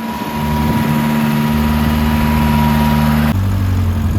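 The engine of a 1984 Toyota Tercel 4WD SR5 idles on a cold day, droning loud and close with a steady hum whose pitch drops slightly near the end as the idle settles.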